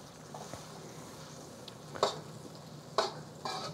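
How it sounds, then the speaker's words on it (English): Two tablespoons of unsalted butter melt in a pan over low heat, giving a soft, steady sizzle with a few short, sharper crackles near the end. "So I'm using 2 tablespoons of butter. Just add it in right now."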